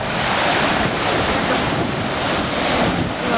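Ocean surf rolling in at Waikiki Beach, Hawaii, a loud, continuous wash of waves mixed with heavy wind buffeting the microphone, steady for the whole stretch with no voices.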